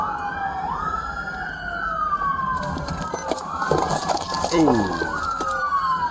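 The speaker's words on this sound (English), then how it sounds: "Police cars are coming out of everywhere." Several police car sirens wail and sweep through a car chase after a stolen vehicle, rising and falling over road and engine noise, with a short exclamation from a person inside the car.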